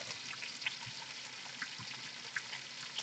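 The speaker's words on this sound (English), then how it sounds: "my water's boiling" A pot of water boils for pappardelle with a faint, steady bubbling hiss and soft irregular pops, quiet and close, with no talk.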